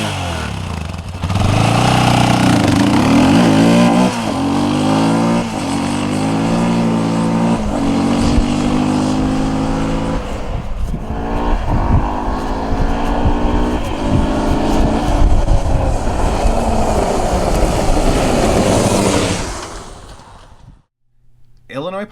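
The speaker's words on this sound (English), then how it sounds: "We're gonna go up and down the parking lot with the stock exhaust." A Honda 400EX ATV on its stock exhaust rides up and down a parking lot, its loud engine note rising and falling through repeated revs and gear changes close by, then cutting off at the end.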